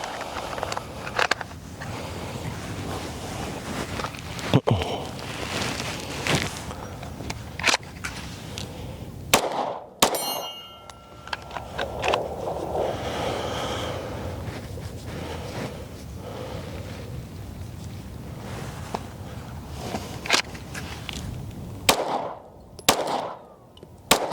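Shots from a Springfield Armory Echelon Comp pistol crack out at an outdoor range, sharp reports spaced irregularly through the stretch with ambient background noise between them.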